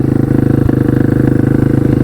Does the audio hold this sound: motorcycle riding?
yes